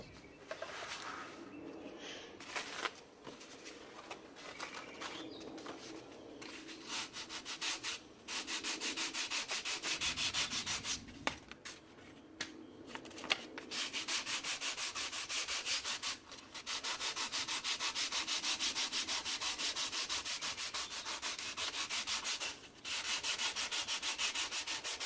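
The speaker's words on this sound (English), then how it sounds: "I'm going to hit this with a little bit more of the 220 sandpaper to take down some of the fuzzies" Hand sanding of a wood plank with 220 grit sandpaper, a steady scratchy rubbing that runs in long continuous strokes with brief pauses, close and fairly loud, with faint birds in the background.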